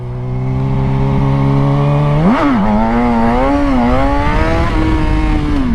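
Gixxer sport motorcycle engine, a Suzuki, holding a steady loud idle-like drone, then revving sharply up with a wavering pitch during a wheelie, staying close and loud throughout with no talk.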